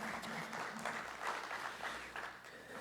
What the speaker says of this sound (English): Let's give ourselves a quick round of applause for this terrific announcement.